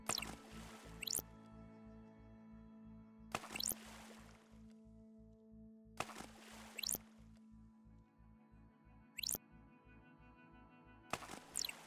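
Water drips in the Deisim VR game, sounding as five bright, separate splashy drops spaced a few seconds apart over a low, steady tonal drone.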